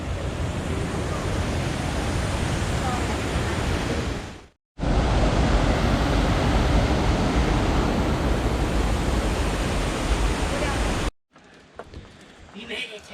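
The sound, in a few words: water rushing where it came into the old mill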